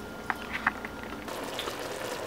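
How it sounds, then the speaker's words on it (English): Thai panang curry sauce with onions and bell peppers simmering in a pan, a soft bubbling sizzle with a few sharp pops early on, then a steadier, slightly louder hiss. "sauce is cooking it up nice"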